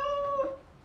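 A cat gives a single short, tonal meow, fairly close and clear, with a steady pitched note that fades toward the end.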